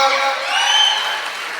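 Students applaud in a short, even wash of clapping, with voices calling and cheering over the hands.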